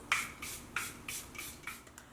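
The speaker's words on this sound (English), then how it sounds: "So I'm going to spray this on my face." Six quick spritzes of makeup setting spray hit a face in an even rhythm, each a short, close, airy hiss.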